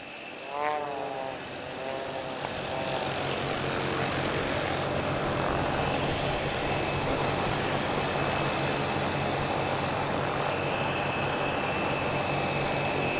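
Team Raven aircraft engines starting at the Portugal Air Summit airshow, a loud whining rise that settles into a steady engine roar with a high tonal whine, heard from nearby and continuing throughout.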